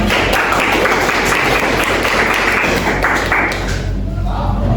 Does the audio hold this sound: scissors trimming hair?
no